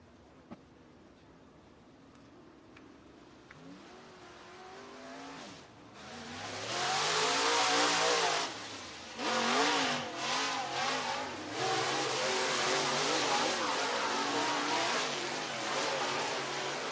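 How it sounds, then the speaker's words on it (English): Dirt track race cars at Duck River Raceway Park in Lewisburg, Tennessee, roll onto the racetrack. Their engines build from a low idle to loud revving and accelerating roars that rise and fall, and the sound stays close and continuous. "Next two drivers rolling out on the racetrack"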